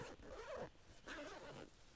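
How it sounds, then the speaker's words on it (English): A zipper on a pass-through pocket of a Vanquest Falconer 27 tactical backpack is pulled open in two close, quick ripping runs, crisp and near, with no voices. "you have two zippers here and they just, you know, it's a pass through"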